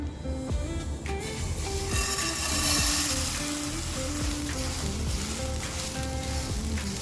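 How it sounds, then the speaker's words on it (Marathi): Green moong dal dry roasting in a pan gives a steady close hiss with faint scraping, loud and continuous throughout, with no talk. "आता आपण इकडे मूग डाळ ड्राय रोस्ट करून घेऊया."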